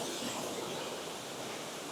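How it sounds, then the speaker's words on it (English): A waterfall inside a man-made cave in a zoo's Madagascar habitat roars as a dense, constant rushing hiss, loud and unbroken throughout. "I don't know if you can hear the sound of that waterfall"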